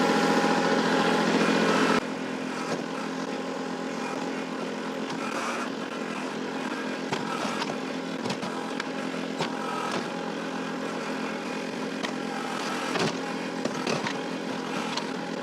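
An engine drones steadily throughout, louder for the first couple of seconds then settling to a constant rumbling idle with occasional faint clanks.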